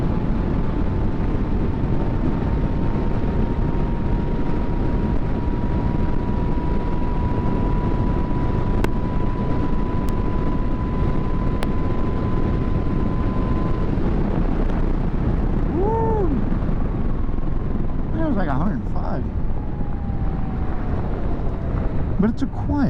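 A 2023 Zero DSR electric motorcycle pulls hard at full throttle, its faint rising motor whine buried under loud, steady wind roar at speed, with no talk.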